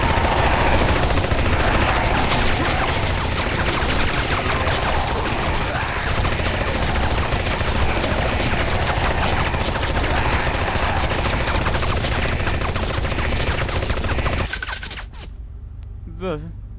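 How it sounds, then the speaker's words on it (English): Minigun fire in the zombie game Last Fortress: Underground, a loud continuous roaring burst that runs for about fifteen seconds, then cuts off abruptly, leaving a few faint rattles and quiet background. "See how the minigun feels."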